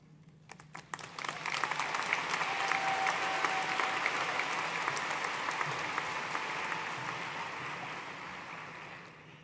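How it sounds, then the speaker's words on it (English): A crowd applauding at a university commencement ceremony in a large hall, sustained dense clapping that swells quickly and holds steady for several seconds before starting to taper off, heard from a distance. "We applaud these efforts by our graduates"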